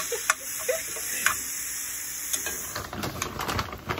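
Ground beef with onion and peppers cooking in a pan, a close steady sizzle with scattered pops and stirring clicks, building louder toward the end, with a high electronic whine running over it.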